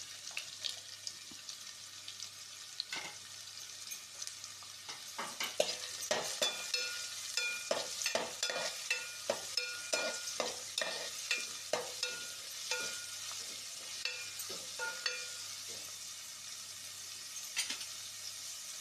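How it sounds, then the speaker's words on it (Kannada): Finely chopped onions fry in a pan until brown, a steady sizzle under a long run of rhythmic spatula scrapes and stirs, close and continuous, with no talking. "ಈಗ ಈರುಳ್ಳಿ ಕಂದು ಬಣ್ಣ ಬರೋವರೆಗೆ ಸಣ್ಣ ಕಾಯಿಸಿ."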